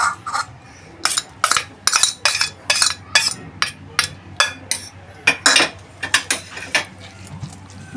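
Boiled potato being crushed in a metal bowl for farali patties stuffing, heard as a run of sharp, rhythmic metallic clinks and taps, close up and spaced about a third of a second apart.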